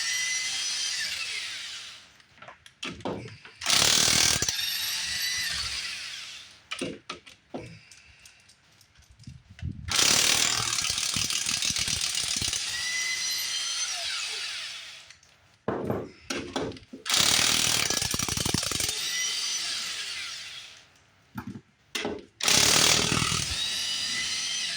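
A powered ratchet removes the lug nuts on a second-generation Camaro wheel in several loud, whirring bursts of a few seconds each, separated by short pauses, with no talking.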